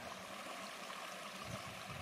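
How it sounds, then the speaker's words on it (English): Steady broadband rush of flowing river water, continuous and fairly close, with no voices. "You can probably hear the water."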